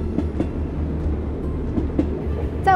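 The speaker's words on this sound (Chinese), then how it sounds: "我身旁是连接宝鸡和成都的宝成铁路，也是第一条穿越秦岭的铁路" A train runs on the Baoji–Chengdu railway, the line crossing the Qinling mountains, with a steady close low rumble and soft rhythmic wheel clacks throughout, alone without voices.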